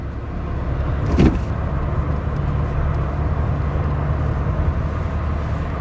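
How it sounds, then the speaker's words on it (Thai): A car cruises along Thai highway 117 near Nakhon Sawan with a constant loud rumble of road and engine noise, and a brief whoosh of something passing early on. "ขับรถอยู่บนทางหลวงครับพี่น้องครับ ทางหลวงแผ่นดินหมายเลขหนึ่งหนึ่งเจ็ดสายนครสวรรค์"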